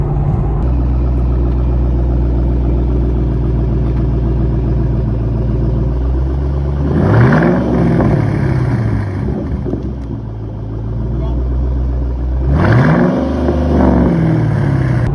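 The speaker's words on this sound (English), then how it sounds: "the exhaust note is perfect" A deep, loud V8 exhaust with mufflers deleted rumbles steadily from inside a moving Ford Mustang, swelling twice as the engine revs up through gears.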